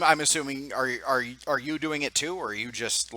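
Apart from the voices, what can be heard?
No everyday noises stand out.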